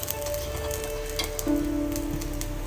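Gunta ponganalu frying with little oil in a pan as they are flipped over, a soft steady sizzle close by with a few faint clicks and taps from turning them.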